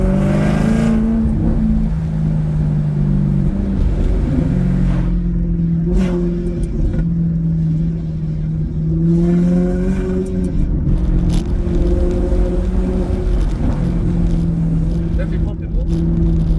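A Maserati GranTurismo S with sport catalytic converters and silencers idles and revs, its deep exhaust rumble loud and close, swelling and easing in repeated rises throughout.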